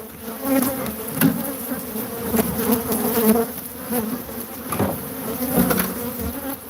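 A swarm of killer bees drones around a huge hive, close and continuous, the buzz pulsing slightly in intensity with a few faint knocks underneath.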